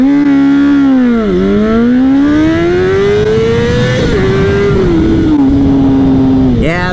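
A Honda CBR600RR motorcycle accelerating hard in second gear, its engine note climbing steadily and loudly toward a high-pitched scream, with a brief dip at a shift and a voice heard faintly under it.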